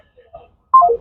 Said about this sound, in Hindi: फोन काट दिया गया, बातचीत तो नहीं हुई।